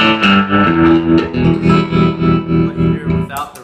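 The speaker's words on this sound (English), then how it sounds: "Turn it all the way down, and you hear its really deep, slow throb." Guitar through a Stovall DR-22 amplifier, a Deluxe Reverb-style clean channel, with tremolo at its slowest speed, giving a deep, slow, even throb to sustained chords that swells and dips several times over a few seconds.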